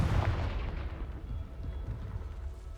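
A fiery Confringo blast spell cast in the video game Hogwarts Legacy booms loudly with a deep, rumbling roar that swells at the start and then rolls on steadily for a few seconds, with no talking.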